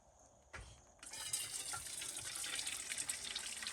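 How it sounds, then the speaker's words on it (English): Homemade poultry stock is poured through a strainer in a kitchen, a steady, quiet stream of gushing liquid that starts abruptly after a short, faint moment. "And now I'm going to start straining this."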